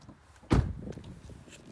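A single solid thud of a car door shutting outdoors at a nature reserve, fairly faint, followed by quiet ambient noise.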